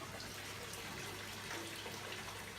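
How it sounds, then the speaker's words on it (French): Water runs steadily from open taps inside a farmhouse, a continuous even hiss and splash with no breaks, moderately faint and alone. "l'eau ici coule en permanence, hein"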